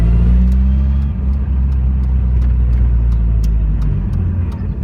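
Ford RS Cosworth 3 door engine while driving: a steady, loud low-pitched rumble from inside the car with faint ticking clicks, no talking.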